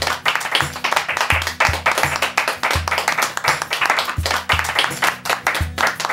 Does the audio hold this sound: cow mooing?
no